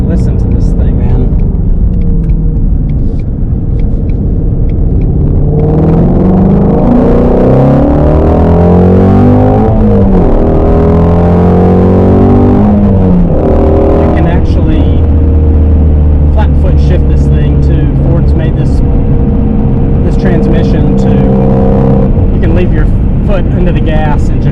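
A 2020 Shelby GT350 Mustang engine roars loudly while driving, climbing and dropping through gear shifts with sharp revs, heard close from inside the car, with a voice talking over it at times.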